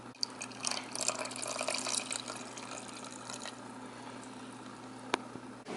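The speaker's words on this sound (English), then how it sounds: "then we're going to add in our cup of water and bring it to a boil." A cup of water pours into corn syrup in a pan while making hard candy, a steady gurgling, splashing stream that is strongest at first and then eases into softer trickling, with a couple of sharp clinks and no talk.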